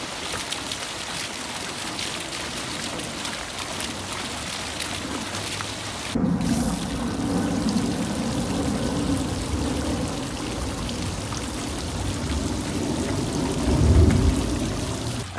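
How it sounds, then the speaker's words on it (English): A 1000 gallon per hour fountain pump drives a steady rushing, splashing flow of water, growing heavier and louder partway through, with no voices. "you saw the difference between the 700 and the 1000 gallon per hour pump"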